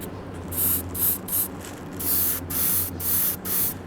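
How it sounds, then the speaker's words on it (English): An airbrush sprays paint onto a handmade garfish swim-bait lure in about eight short hissing bursts, close and fairly loud, separated by brief pauses over a low steady hum. "Got to be very gentle with the airbrush because you overspray and it's just going to pull and run everywhere"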